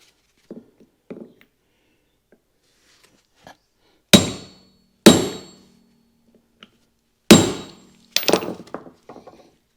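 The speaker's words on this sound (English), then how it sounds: "I've got a 19 mil socket and my tiny hammer." Sharp metallic strikes from a small hammer on a 19 mm socket, tapping carrier bearing clips in on a 2005 Ford F350 dually, ring out one at a time with gaps, a few light taps first, then heavier blows and a quick cluster at the end.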